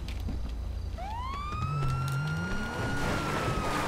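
Police car siren in GTA 5 Online, a rising wail that sweeps up and then holds a steady tone over continuous game engine and traffic noise, with a second lower siren tone joining partway through.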